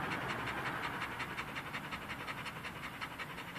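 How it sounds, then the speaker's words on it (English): A dog panting hard and fast in a continuous rapid rhythm, close and fairly loud, with no talk over it. "That is the most sporadic freaking panting ever"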